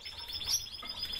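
Bulbul, a Southeast Asian songbird kept in captivity, gives quick high chirping calls, a few bright notes close by and fairly faint over a soft background.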